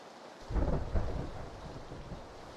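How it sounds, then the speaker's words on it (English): Rain and thunder in PlayerUnknown's Battlegrounds, a low rolling rumble swelling in after a brief quiet and settling into a steady wash of rainfall that fills the rest of the moment. "the rain makes it very difficult to actually hear what's going on"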